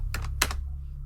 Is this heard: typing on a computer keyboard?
yes